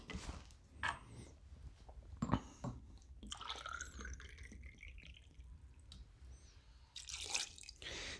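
Cheap gin pours into a cocktail in short liquid trickles and drips with small splashes, close and quiet, broken by soft handling noises.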